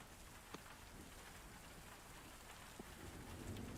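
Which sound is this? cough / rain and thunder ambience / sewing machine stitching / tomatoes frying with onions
rain and thunder ambience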